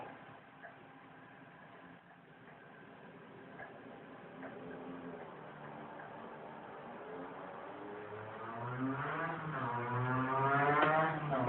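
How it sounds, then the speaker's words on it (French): A motorcycle engine hums in the background, then swells and rises in pitch near the end as it draws closer and passes, growing steadily louder. "il y a une moto qui vient de passer"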